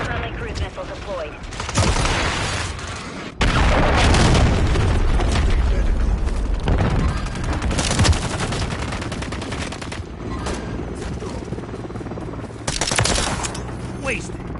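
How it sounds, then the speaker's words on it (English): A cruise missile strike in the Call of Duty video game brings loud, dense bursts of explosions and gunfire that rumble almost continuously, with short gaps between heavy blasts and a radio-style game voice heard now and then. "Friendly cruise missile deployed."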